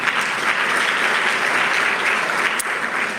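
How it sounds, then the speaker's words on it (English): Audience applause at an investment conference in Botswana, a continuous even roar of many hands clapping throughout, fairly loud and with no talk over it. "Round of applause for them, please."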